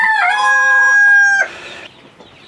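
Rooster crowing close and loud in a Turkish backyard flock, one long ringing crow lasting over a second before cutting off, followed by soft ambient farmyard noise.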